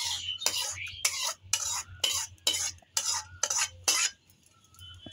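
Boiled green mango pulp is pressed through a strainer with a ladle, giving a series of about nine close, rhythmic scraping and clattering strokes of metal against the sieve, then a quieter pause at the end.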